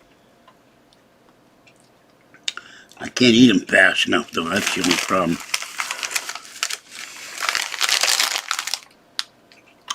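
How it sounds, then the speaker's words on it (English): Mandarin oranges are pulled out of a thin plastic bag, giving a close burst of crinkling and rustling plastic with a few sharp ticks, mixed with a person's speech. "I'm taking the mandarin oranges out of the bag."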